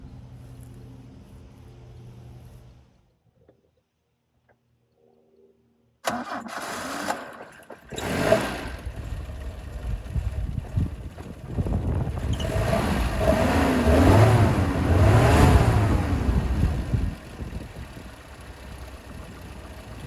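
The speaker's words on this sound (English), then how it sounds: "Now I think it's time to start the car up." A 1973 Alfa Romeo GTV with a 2.0L engine starts after a quiet low idle, firing up abruptly, then revs repeatedly with rising and falling sweeps before settling back to a steady idle, loud and close.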